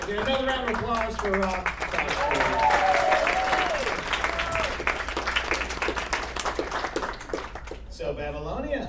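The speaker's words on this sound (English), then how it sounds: "Another round of applause for" Steady applause from an audience at a charity variety show, dense clapping holding strong throughout, with singing and talk layered over it before fading near the end.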